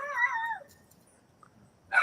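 A dog in distress a couple of houses away gives a short run of high, wavering whimpers that fade out. A quiet pause follows, then a brief rough noise burst.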